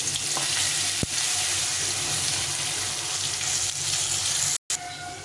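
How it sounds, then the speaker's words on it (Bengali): Potatoes frying in a pan over a tempering of bay leaf and cumin, for a fish curry with winter brinjal, beans and tomato; a steady close sizzle with stirring, broken briefly by a short silence near the end. "আলুটা লাল লাল করে ভেজে নিয়েছি"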